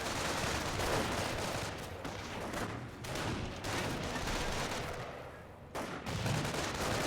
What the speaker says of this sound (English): We've seen a bit of fire from the riflemen.